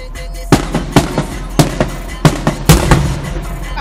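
Fireworks display at a Denville event, a series of sharp booms and cracking bursts at irregular intervals, fairly loud and near, with faint background crowd noise between blasts.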